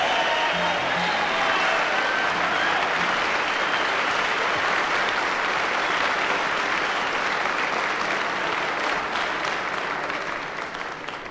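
Live concert audience applauding and cheering in a loud, dense, sustained wave that carries on for several seconds and eases slightly toward the end.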